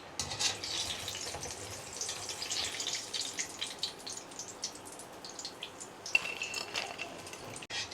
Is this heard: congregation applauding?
no